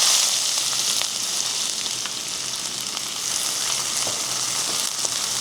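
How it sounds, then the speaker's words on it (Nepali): Onion fries in hot oil with fenugreek, nigella and ajwain. The pan gives a steady, close, crackling sizzle with small spits and pops throughout. "प्याज राखेर हल्का भुटिदिने।"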